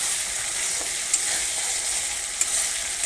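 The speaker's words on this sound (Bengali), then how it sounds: "দেখো আমার মশলাটা কষানো হয়ে গেছে" Ground spice paste cooking down in a pan, a continuous close hiss of frying with a couple of faint utensil taps, heard alone.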